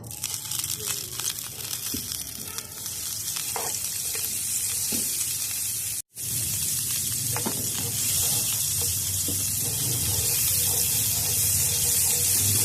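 Oil and butter sizzle in a pan for a homemade stovetop pizza, a loud continuous hiss with crackles and spatters that briefly cuts out, then carries on strongly under faint talk.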